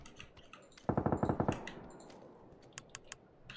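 A rapid burst of about eight automatic gunshots rings out in a first-person shooter game, sharp and evenly spaced, followed by a few fainter clicks and distant shots.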